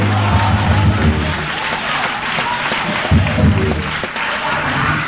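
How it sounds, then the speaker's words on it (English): A church congregation applauds during a sermon, a dense, steady wash of many hands clapping at close range that runs throughout, with voices mixed in. "you clap your hands and say, oh,"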